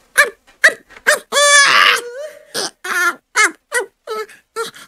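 A voice makes a run of short wailing cries, then one long drawn-out whine, imitating a crying baby in uneven bursts.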